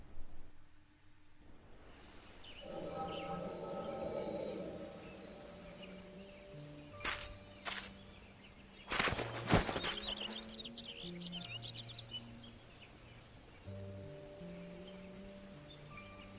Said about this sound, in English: More birds.